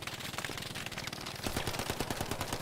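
Rapid bursts of gunfire in Hell Let Loose, a fast automatic rattle of repeated shots that grows louder and denser in the second half, with no speech.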